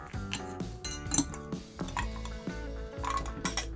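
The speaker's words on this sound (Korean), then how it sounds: "얼음 넣고 쉐이킹도 하는데 잔에 칠링 해줄게요" Ice cubes clink and rattle against a cocktail glass as it is chilled, giving bright, glassy ticks and chimes close by in an irregular, continuous jingle.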